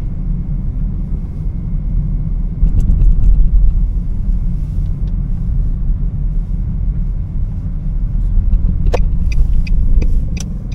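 Truck carrying culverts drives in at a construction project near the China border, a loud steady engine rumble with low road noise and a few faint clanks near the end.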